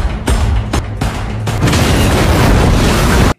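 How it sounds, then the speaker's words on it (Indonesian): A loud explosion in a film scene, set off inside a toilet, erupts as a heavy, rumbling boom after a few sharp impacts and then roars on continuously before cutting off abruptly. "sebuah ledakan terjadi dari dalam toilet tempat Charlie bersembunyi"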